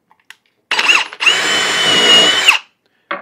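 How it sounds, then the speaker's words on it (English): A power drill bores holes into a wooden cleat for screws, two close, loud whirring bursts with a short gap between them and brief quiet on either side. "drill holes and put a couple of screws in there just for belt and suspenders, added strength"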